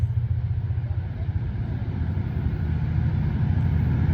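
A heavy diesel locomotive engine drones steadily, deep and rumbling, growing slightly louder as it labors under load climbing a steep grade, with no voices over it.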